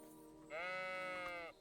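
A single sheep bleats once in Kingdom Come: Deliverance II, a clear, wavering baa lasting about a second over a quiet game background.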